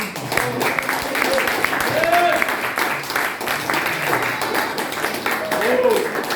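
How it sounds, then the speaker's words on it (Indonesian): A church congregation claps and applauds together, a steady, full-room wash of clapping that holds loud throughout, with voices and chatter mixed in beneath it. "Tepuk tangan buat kelahiran baru."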